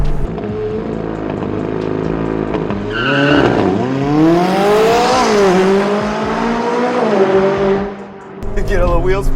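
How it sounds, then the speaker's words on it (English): A supercar accelerates hard with brief wheel spin, its engine note rising loudly through the gears close by, while excited voices talk and cheer over it. "Get a little wheel spin, but once it hooks up, it goes."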